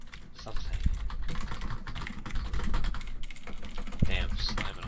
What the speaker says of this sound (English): Damn, slamming on that keyboard.